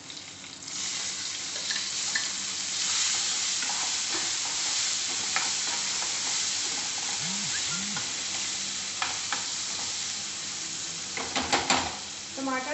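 Tomatoes hit a hot pan of masala for louki sabji and fry with a constant sizzle, while a spoon scrapes and stirs in bursts. A few clinks near the end, and no one talks over it.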